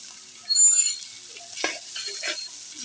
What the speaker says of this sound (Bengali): এখন একটু ভাজা ভাজা করে নেব।